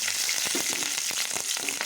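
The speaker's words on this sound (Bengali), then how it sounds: "এবার ওই একই তেলে আমি দিয়ে দিব কাঁচা লঙ্কা" Green chillies drop into hot oil in a wok already used for frying lentil dumplings, giving a dense, steady sizzle and crackle throughout, close and even, with faint stirring clinks and no talk.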